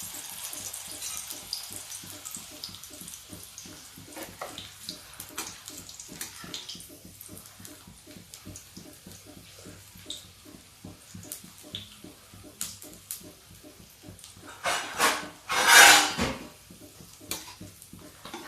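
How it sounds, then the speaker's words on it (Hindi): French fries made from potatoes lowered bit by bit into hot oil, a soft continuous sizzle and bubbling close by, with a brief louder burst of crackle near the end and no talking. "इधर देखिए मेरा तेल गर्म हो रहा है। मैं इसमें फ्रेंच फ्राई धीरे धीरे डालूंगी।"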